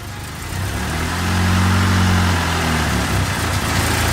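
A turbocharged Honda Civic with a D16Y8 engine idles smoothly and steadily nearby, a low even hum with faint variation and no one talking.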